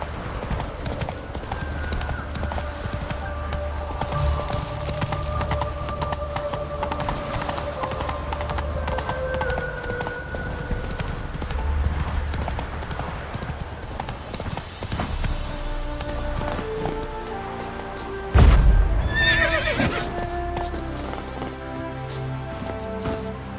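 Horse hooves clip-clopping steadily in the Witcher 3 video game, with a sharp neigh late on amid ambient game sound.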